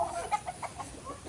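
Chickens at a Philippine farm, a few quick clucks and short calls in close succession, moderately faint and close by, with no talking.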